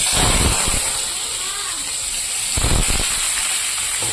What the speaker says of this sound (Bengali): এবার আমি এখানে কেটে রাখা পেঁয়াজগুলো দিয়ে দেবো